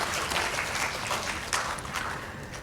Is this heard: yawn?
no